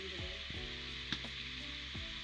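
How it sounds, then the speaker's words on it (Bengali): Mutton sizzles steadily in a pan, a constant hiss of frying with a light stirring clack, heard close and fairly quiet. "এবার মাংসটাকে একটু ভেজে নিচ্ছে।"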